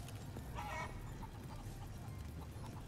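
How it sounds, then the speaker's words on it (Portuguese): Hens cluck softly in a short burst in the video game GTA 5, then scattered quieter clucks continue over a steady low background hum. "Eu ouvi barulho de galinha."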